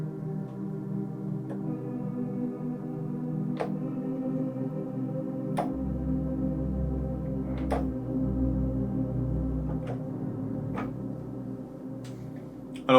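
A synth pad built from a voice sample sustains a soft, steady harmonic tone drenched in huge reverb, with a low swell joining midway and faint clicky transients scattered through.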